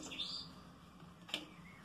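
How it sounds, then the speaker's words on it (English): Birds chirp outdoors, with a few high tweets early and a brief sharp chirp or tick near the end, faint and somewhat distant over a quiet background. "Okay, birds, don't be so loud."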